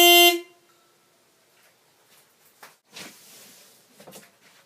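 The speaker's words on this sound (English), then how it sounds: "I will wander out there now and honk the horn for a before." A stock car horn gives one loud, sharp honk at the very start, before any Hella Supertone horns are fitted, then fades into quiet outdoor handling noises and faint knocks.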